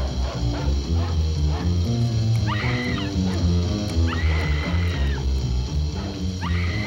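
Dogs bark and yip in short bursts with high whimpering whines, close and loud over a dense background of music and movie sound.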